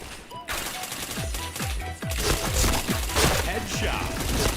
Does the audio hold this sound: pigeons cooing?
no